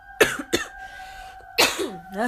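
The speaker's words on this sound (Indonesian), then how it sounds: "Masih batuk lagi" Several sharp, close coughs come in two bursts, a pair of quick ones, then a pause and another harsher cough trailing off.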